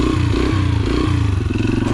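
Dirt bike engine revving hard for a clutch-pop wheelie, a loud, steady mid-pitched drone with a quick surge partway through, close by and alone with no voices.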